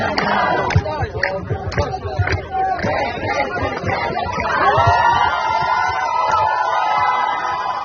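Crowd at an anti-Israel rally in Toronto cheering and whooping as a politician is arrested, a dense outdoor babble of shouts and cheers that swells toward the end.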